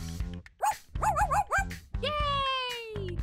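A cartoon dog yips and whimpers in a few quick rising calls, then gives one long falling whine, close and loud over a bed of background music.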